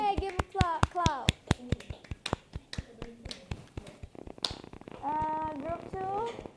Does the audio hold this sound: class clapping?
yes